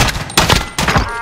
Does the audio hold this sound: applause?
no